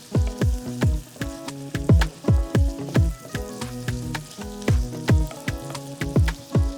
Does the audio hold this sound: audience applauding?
no